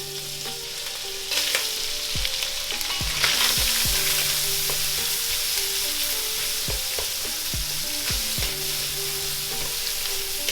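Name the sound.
chorizo and ingredients frying in hot oil in a pan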